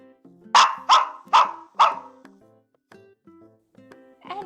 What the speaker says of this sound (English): I love dogs that bark